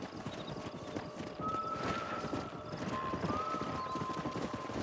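Horses gallop in the Red Dead Redemption cowboy video game, with a dense, continuous drumming of hooves and a neigh rising over the thundering herd.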